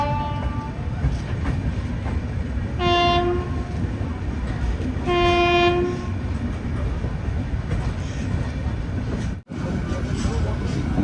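An Intercity Express pulls into Viramgam Junction station, sounding two loud sustained horn blasts over the continuous roar and rumble of the moving train, close and loud.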